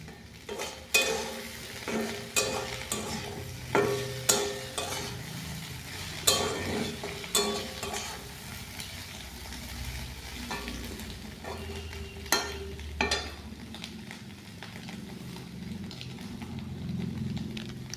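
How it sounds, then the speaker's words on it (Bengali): Mixed vegetables fry in a pan, a soft steady sizzle broken by sharp scrapes and taps of a stirring utensil at an uneven pace, close and moderately loud, with no talking. "দেখুন আরও এমন ভাজা হয়েছে, পুরো একদম গলে গেছে।"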